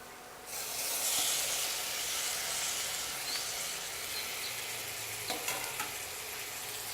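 Onions frying in a pan as a tomato goes in for a Rajasthani tempered pea dal, giving a steady close sizzle with a little stirring and a few soft knocks near the end.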